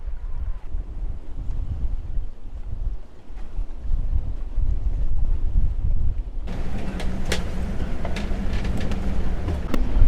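Strong wind on the coast at La Maddalena buffets the microphone with a loud, continuous low rumble, joined midway by brighter hissing gusts and crackles, with no talking.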